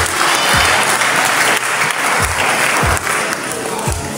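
A church congregation claps together in a sustained burst of loud applause, with a few deeper thumps and some voices blending in beneath the clapping.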